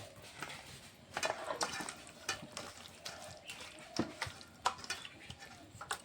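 Chopped fish roe being mixed by hand with salt, turmeric and chili powder, soft wet squelches and irregular light scraping against a bowl, quiet and close with no talking.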